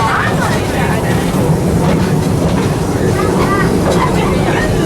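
Steady low rumble of the Serengeti Express amusement park train at Busch Gardens rolling along the rails, continuous and fairly loud, with faint voices in the background.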